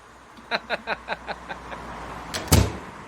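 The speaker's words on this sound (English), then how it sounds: "I close the door and fall to the ground." A door swings shut with a solid thud, preceded by a quick series of light rhythmic clicks or taps that fade, all fairly close in a quiet room.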